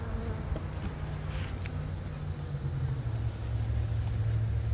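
Honey bees buzz steadily around a beekeeping honey tower, a continuous low drone that swells slightly louder toward the end, with no talk.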